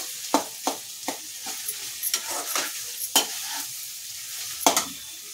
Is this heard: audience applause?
no